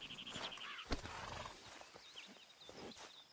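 A horse in the video game Red Dead Redemption 2 snorts and whinnies while hooves clip-clop at a walking pace, close up and quiet, with scattered other game sounds around it.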